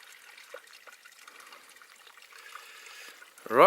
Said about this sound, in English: That's the source of the River Wye.